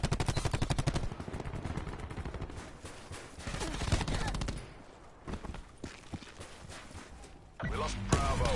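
Bursts of rapid automatic gunfire and single shots ring out in a Black Ops 4 multiplayer match, mixed with other game sounds, while a player talks over the action throughout.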